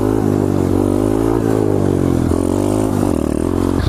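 A pit bike engine held at high revs through a second gear wheelie, a loud steady buzzing drone with small pitch dips as the throttle shifts, close to the rider.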